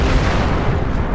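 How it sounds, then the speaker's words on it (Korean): Sukhoi Su-30 fighter jet exploding after a laser strike: a loud, sustained deep rumbling blast filling the whole moment with dense low roar. "240km 밖에서 보행기는 레이저를 충전해 발사한다. 레이저 빔은 적외선 스펙트럼 안에 있어 맨눈으로는 볼 수 없다. 선두에 있던 수호이 30 한 대가 폭발한다."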